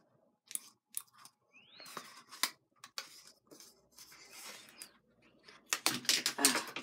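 Scissors snip a piece of tape in a few sharp, close crisp cuts, followed by rustling and crinkling of the tape and a burst of handling noise at the end.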